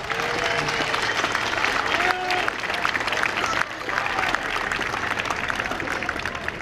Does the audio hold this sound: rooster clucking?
no